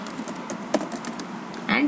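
Keys clack on a computer keyboard as blank spaces are typed, a few scattered clicks and taps over about two seconds, close and moderately loud, with a short voice-like sound near the end.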